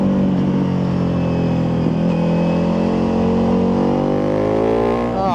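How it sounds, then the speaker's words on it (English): Ducati Multistrada V4 Pikes Peak motorcycle engine accelerating hard, a loud continuous V4 drone with harmonics rising steadily in pitch through the gear, recorded close with strong wind noise. "Such a great engine."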